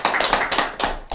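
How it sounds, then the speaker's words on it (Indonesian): An audience claps at an Indonesian chocolate talk show, a short burst of several sharp, rhythmic hand claps, close and fairly loud. "Tepuk tangan dulu sebelumnya."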